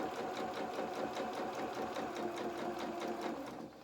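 A sewing machine stitches fabric for a doll jacket, a fast, even mechanical chatter running close and steady throughout, then easing slightly at the very end.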